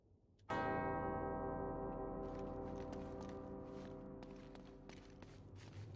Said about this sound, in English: Two bells resound in perfect harmony.